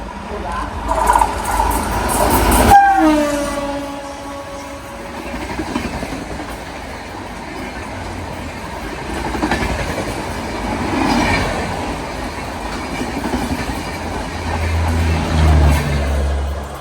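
Jan Shatabdi express train rolling past on an Indian railway loop line, steady rumble and clickety-clack of wheels with a brief horn-like tone early on, while people talk over it.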